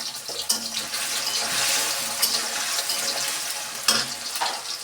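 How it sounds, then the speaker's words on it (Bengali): Potatoes fry in plenty of oil in a pan, giving a steady close sizzle and hiss with occasional clinks and stirring scrapes, and no talking. "আলুগুলোকে লাল করে ভেজে নিই"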